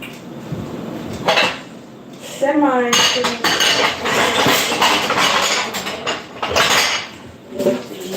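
Dishes and cutlery clinking and clattering as they are handled in a kitchen cupboard, with continuous close rattling, scraping and clanking and a few louder knocks, with no talking.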